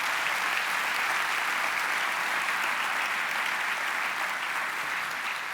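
Congregation clapping loudly during a church sermon, a thick, continuous roar of applause from many people, even in level and uninterrupted by speech.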